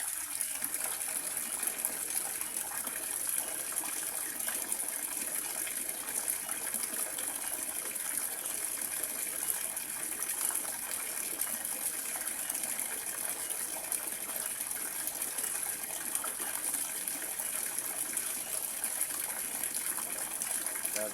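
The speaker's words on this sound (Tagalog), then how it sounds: "Piso lang yan, mapupuno na yung planggana." Water gushing steadily from a coin-operated water vending machine into a basin, a continuous hissing, splashing stream that holds constant for the full duration at close range.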